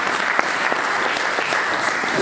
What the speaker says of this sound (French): Je veux qu'on acclame la parole de Dieu.